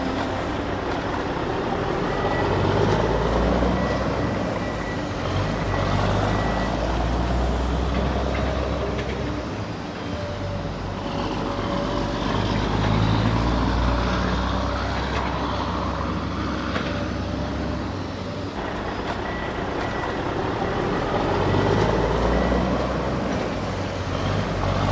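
Two toy excavators, a blue one and a heavier green one, race each other, their motors giving a steady, close, rumbling drone with a faint whine that runs throughout.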